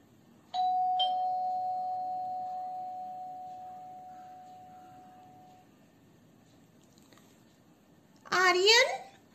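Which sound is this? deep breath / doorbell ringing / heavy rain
doorbell ringing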